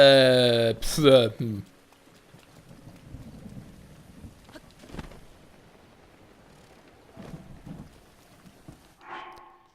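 Rain and rolling thunder from the video game The Legend of Zelda: Breath of the Wild play as a soft steady patter with a few deeper booms, while someone talks briefly over the start.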